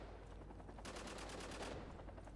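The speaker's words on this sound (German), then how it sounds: "ich höre die Schüsse." Gunfire in the video game Spec Ops: The Line, a sustained burst of rapid automatic shots rattling for nearly a second over a quiet background hum, fairly faint overall.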